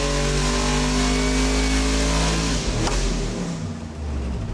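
Supercharged Cadillac LSA 427 V8 revving hard on a dyno pull, a loud sustained climbing engine roar rising toward 6,500 rpm before cutting off near the limiter.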